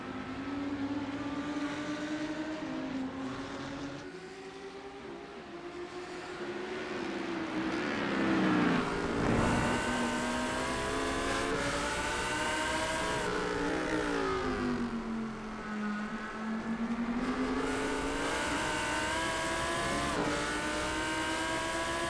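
GT3 race cars howl around Brands Hatch in iRacing, engine pitch rising and falling through gear changes and braking zones, with other cars swelling nearby, loud and continuous with no speech.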